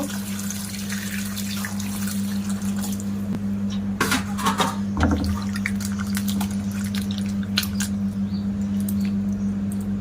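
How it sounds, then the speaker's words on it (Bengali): Raw mangoes being washed in water, with gentle splashing, trickling and dripping over a low steady hum, a few louder sloshing bursts midway, close and without speech. "এবার আমগুলো জল দিয়ে ভালো করে পরিষ্কার করে ধুয়ে নেব"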